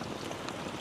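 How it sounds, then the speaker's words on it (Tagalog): Heavy rain pours steadily on a mountain home, a dense, even hiss of water with no pauses, close and moderately loud, with no voices over it. "Ay, grabe po ang ulan."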